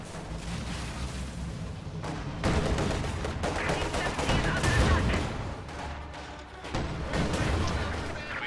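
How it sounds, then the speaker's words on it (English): Gunfire and sniper fire in a WWII-era strategy game battle: a loud, steady barrage of overlapping shots and bursts with sharper surges of heavier fire, no voices heard. "Shock troops trying to close in on these Grenadiers, but they're taking sniper fire in the process."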